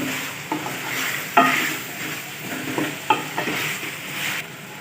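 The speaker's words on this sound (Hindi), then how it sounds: "अब हम लहसुन अदरक का पेस्ट ऐड करेंगे 2 खाने के चम्मच और इसे भी फ्राई कर लेंगे" Garlic ginger paste sizzles and spatters in a hot pan while a spoon stirs and scrapes, with a few sharper clacks of metal against the pan.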